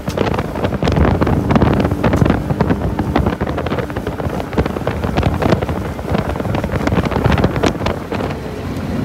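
A Sea-Doo Speedster Sportster 4-tec jet boat engine roars steadily while buffeting wind noise hits the microphone and water splashes past, loud and continuous.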